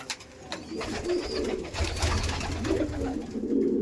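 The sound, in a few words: Kalanka pigeons cooing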